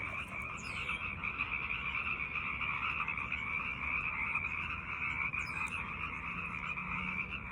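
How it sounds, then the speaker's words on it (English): A marsh full of frogs croaks in a constant, dense chorus, many voices overlapping into a steady trilling drone heard outdoors at moderate distance with no talking. "And then you guys hear all the frogs down there."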